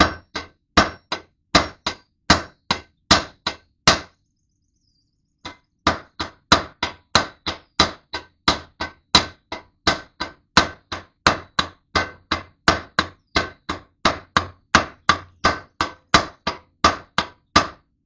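Loud, close hammer blows setting rivets on a John Deere 1219 cutter bar, about forty sharp metallic strikes in a steady fast rhythm, broken by one brief pause.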